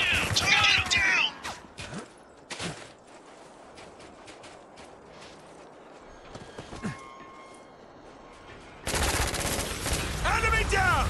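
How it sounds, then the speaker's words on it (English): Heavy gunfire rattles through a desert battle in Spec Ops: The Line, with loud sustained volleys at the start and end and scattered single shots between, while soldiers shout over the fighting. "Concentrate fire!"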